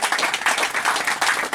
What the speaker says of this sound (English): Please, can you give a clap offering unto the miracle working God?